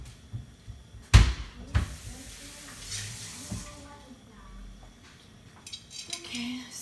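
Pots and lids clatter in a kitchen during a search for a pot lid while rice and black beans cook: a loud metallic bang, then softer clinks and cupboard knocks, with faint talk in the background.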